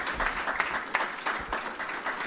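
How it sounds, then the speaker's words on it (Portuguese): A church congregation claps and applauds in a sustained burst of dense, even clapping that fills the whole stretch. "Aplauda a Jesus, aleluia"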